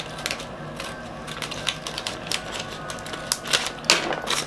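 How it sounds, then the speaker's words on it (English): Box cutter slicing through the packaging of a witchy subscription box, giving a steady run of small scraping, ticking and crinkling sounds at close range with a sharper crackle near the end. "I'm gonna try to cut the thing so I'm not making a mess."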